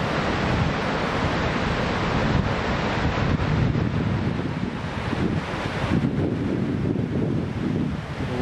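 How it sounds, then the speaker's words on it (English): Rushing river rapids overflowing beside a rural road in northern Massachusetts, a dense, continuous roar of water with heavy wind rumble on the microphone, steady and loud throughout. "Look at these rapids."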